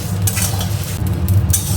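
Whole coriander seeds, cumin and dried chilli frying in a pan, stirred steadily, giving a close, continuous scraping rustle with a low sizzle underneath and no voices.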